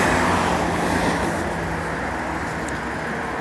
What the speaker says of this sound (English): You see how noise is a Porsche noise.